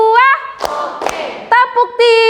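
Children in a classroom clapping on a teacher's count, giving two sharp group claps between a woman's sung or chanted voice, close and loud.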